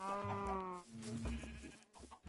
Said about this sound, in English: Are we happy with this number of sheep in here?